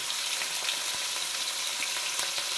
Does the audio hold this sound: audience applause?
no